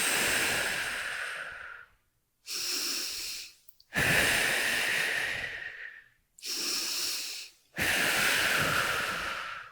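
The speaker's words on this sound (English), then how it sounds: "5 big breaths." Five long, deep breaths drawn in and pushed out during a back stretch against a wall, each a loud close rush of air separated by brief silences.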